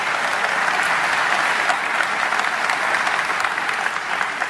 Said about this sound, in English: Please give Robin a great round of applause.